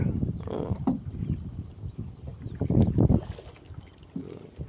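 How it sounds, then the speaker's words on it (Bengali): Water lapping against a wooden rowing boat on a river, heard as soft, irregular splashing surges close by, with some wind noise. "অনেক সুন্দর পানির একটা শব্দ আছে,"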